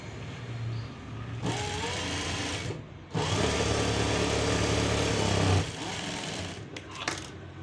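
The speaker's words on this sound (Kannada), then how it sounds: "ಸೊ ಇವಾಗ ಸ್ಟಿಚ್ ಮಾಡ್ತೀನಿ" A sewing machine stitches fabric in steady, loud, close runs, pausing once and then running again for a longer stretch after an adjustment made to fix loose stitches.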